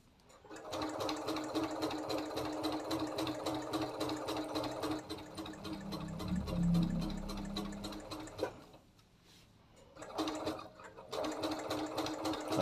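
ELNA 720 pro sewing machine stitching fast with a walking foot, a rapid steady mechanical whir close up, pausing briefly near the end before resuming.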